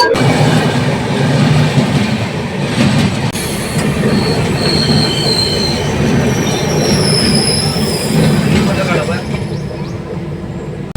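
12810 Mumbai Mail running on rails, a loud continuous rumble from inside the train with high metallic wheel squeals rising over it and faint rhythmic clatter, close and sustained throughout.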